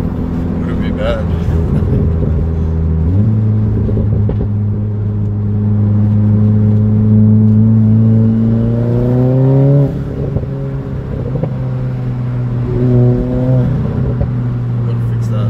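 A VW Golf R with an APR tune: a loud, close exhaust drone that rises in pitch as it revs and then settles, with a few faint crackles and someone talking over it.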